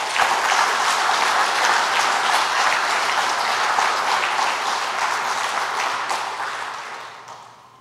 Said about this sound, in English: I would like you to say thank you by giving him a round of applause.